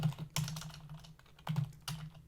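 Computer keyboard typing during a coding session on 3D collisions, with bursts of quick keystrokes that cluster around four sharp clacks, close and fairly quiet, with no voice.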